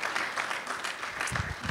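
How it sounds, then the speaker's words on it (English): A hall of people at an academic affairs fall meeting applauds faculty researchers with a dense, steady wash of clapping that holds at an even level throughout, with a few heavier low thumps near the end. "Can I get a round of applause for our faculty researchers"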